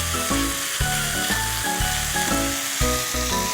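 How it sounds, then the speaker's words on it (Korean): Onion and green onion hit a very hot wok for seafood ganjjajang, roaring sizzle with rhythmic tossing and spatula strokes pulsing about every half second, loud and close, no voices. "그런 다음에 양파하고 대파를 넣을 거예요."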